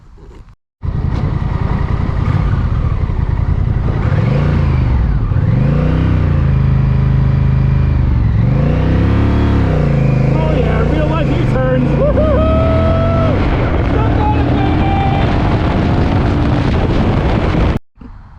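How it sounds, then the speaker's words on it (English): A Honda Rebel 1100 motorcycle engine revs repeatedly, rising and falling in loud, close blips that build to quicker, higher revs before cutting off, with wind buffeting the microphone. "when you rev bomb it, it's just a bark, it's just a noise rather than a growl."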